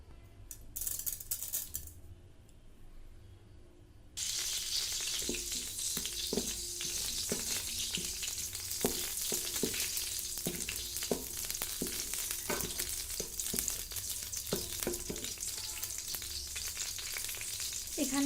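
Bay leaf pieces, crushed cardamom and cumin seeds hit hot oil with a sudden loud sizzle that keeps going, full of crackles and spattering pops, after a quieter hiss at the start; no voices.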